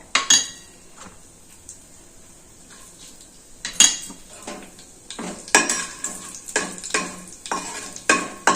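Mustard seeds, cumin, chana dal, urad dal and dried red chillies sizzle softly in hot oil while a spoon repeatedly scrapes and clacks against the pan in a quickening rhythm.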